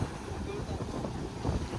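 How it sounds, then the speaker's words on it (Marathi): Sea waves surge and break at Kanyakumari on the coast, a steady low roar pushed by gusting wind that rumbles across the microphone, with a slight swell in loudness near the end. "हे बघा समुद्राच्या लाटा कसा उसळताना दिसत आहे,"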